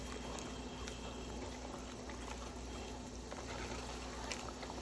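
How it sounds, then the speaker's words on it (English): A pot of sauce simmers quietly on the stove, a soft continuous bubbling hiss at low level with faint occasional pops and a low steady hum beneath, and no voices. "So you're gonna let this simmer for about 5 minutes"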